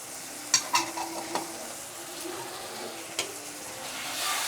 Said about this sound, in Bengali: এবারে কাঁচা গন্ধ যাওয়া অবধি আমি কষিয়ে নেব